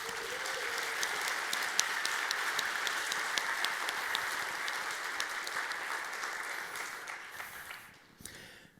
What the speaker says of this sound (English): So a round of applause to them, please